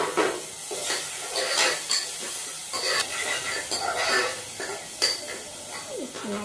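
Tomatoes fry in a pan with masala for lauki dal, giving a soft hiss broken by repeated metal spoon scrapes and clinks of stirring, fairly quiet and close.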